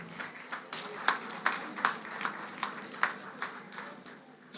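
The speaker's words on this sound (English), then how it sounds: "Let's give him a round of applause" Applause at a cultural gala for a sports award winner, a modest crowd clapping with distinct sharp claps standing out in a loose rhythm, moderately near, with murmured voices underneath.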